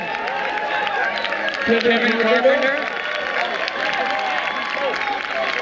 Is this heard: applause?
yes